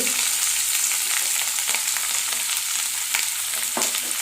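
Coconut pieces fry in a pan with a loud, steady hiss and crackle, broken by a few sharper pops and stirring scrapes.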